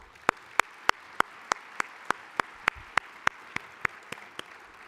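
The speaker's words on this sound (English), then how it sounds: "So please give them a round of applause." Sharp, evenly spaced hand claps in a steady rhythm from an audience at a university association's annual meeting in Denver. The claps are clear and distinct, with a quiet room tone between them.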